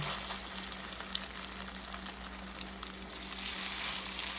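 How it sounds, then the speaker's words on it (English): Patties frying in vegetable oil in a hot skillet, a soft, even sizzle running steadily with faint crackles and a low background hum, no speech. "we're just going to fry these until they're nice and golden brown"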